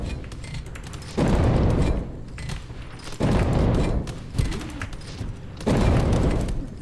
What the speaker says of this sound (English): the explosion from shooting this